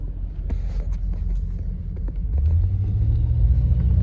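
A car driving to work gives a steady, loud low rumble from inside the cabin, with the engine drone swelling slightly partway through and nobody speaking.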